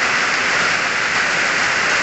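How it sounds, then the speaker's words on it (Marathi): Steady, dense hiss of rain falling continuously, even and unbroken throughout, with no voices or other sounds. "आता मस्त सोबत पाऊस पण आला"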